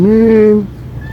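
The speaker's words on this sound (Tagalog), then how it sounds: "Ay, ang lalapit ng pusa." A cat at a memorial park gives a single drawn-out, tonal meow at close range, about half a second long, before it falls quiet.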